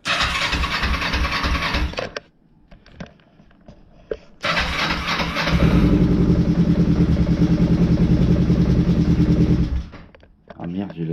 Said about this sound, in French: le démarreur fonctionne